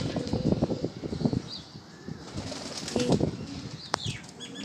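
Rampuri pigeons flap their wings nearby in short flurries, a few bursts of fluttering beats separated by quieter gaps, with faint background sounds and a brief chirp near the end.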